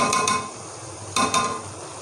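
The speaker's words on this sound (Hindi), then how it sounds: "अदरक लहसुन का पेस्ट हमारा अच्छी तरह भुन चुका है" Ginger garlic paste frying in a pan gives a soft sizzle, broken by two pairs of brief stirring scrapes against the pan.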